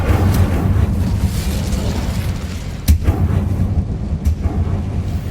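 Incendio fire spell cast in Hogwarts Legacy, a dense rumbling roar of flame under low booming bursts, with a sharp crack near the three-second mark and another fainter burst later.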